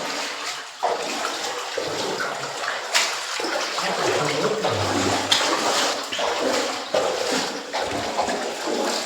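Water flowing and splashing inside a cave temple at the Hinglaj shrine in Pakistan, a steady close rush with irregular surges and gurgles throughout, no talk.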